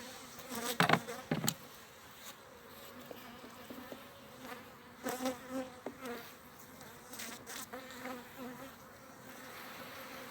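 Honeybees buzz around an opened hive being transferred during a November inspection, a constant soft droning hum with louder close passes of individual bees near the microphone.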